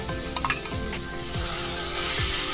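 Marinated chicken goes into hot oil in a pan and sizzles steadily and close, with a few scraping stirs near the start.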